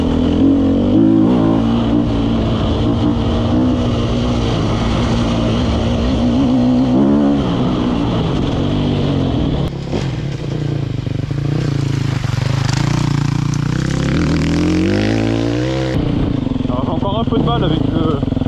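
An enduro motorcycle engine revs hard while being ridden, climbing and dropping in pitch through gear changes and throttle bursts over a loud continuous roar, with a rider talking over it.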